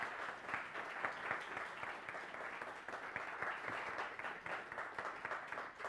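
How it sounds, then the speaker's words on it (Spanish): A hall audience gives steady, sustained applause for an honoree at a memorial forum, dense clapping at a fairly even moderate level throughout with no speech over it. "yo les pido un aplauso muy fuerte para el señor Jorge Escotado"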